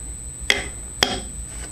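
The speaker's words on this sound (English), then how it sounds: "That's that high pitched whistle you hear." A thin, steady high-pitched whistle from a motor drive's PWM carrier runs continuously in a workshop, with two sharp metallic taps breaking in.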